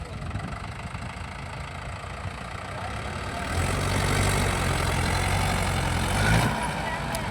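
A Mahindra tractor, loaded with about 200 sacks and stuck in a farm field, runs with a diesel engine rumble that grows louder and heavier midway, with faint outdoor noise around it.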